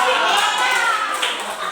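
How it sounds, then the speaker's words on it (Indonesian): A short burst of clapping from a group, steady and fairly close, with children's voices mixed in. "tepuk tangan buat kelompok 3"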